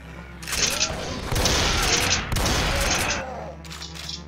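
Shotguns blasting in Zandronum, a Doom-based shooter: rapid overlapping booming shots in a dense fusillade for about three seconds, loud and close, then tapering off with scattered shots.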